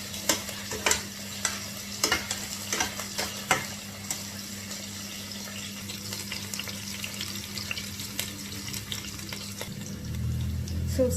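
Garlic and whole small onions frying in oil for a quick curry, a steady sizzling hiss with sharp scraping stirs early on and a low hum underneath, ending in a louder rumble.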